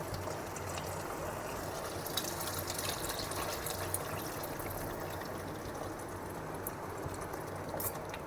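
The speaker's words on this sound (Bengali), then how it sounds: "এবার আমি 1 কাপ গরম জল দিয়ে দেব।" Hot water poured from a cup into a pan of yogurt prawn curry on the stove, a soft, steady watery wash heard up close with no talk.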